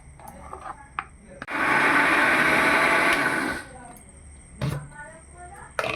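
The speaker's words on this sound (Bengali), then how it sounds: "আমি মিক্সিতে একটু ঘুরিয়ে নেব।" A mixer grinder whirs loudly for about two seconds while blending eggless mango cake batter with yogurt, starting abruptly and cutting off, with talking before and after.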